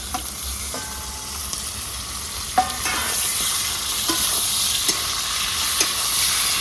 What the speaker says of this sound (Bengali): মটরটাকে ভালো করে পেঁয়াজের সঙ্গে কষে নেবো।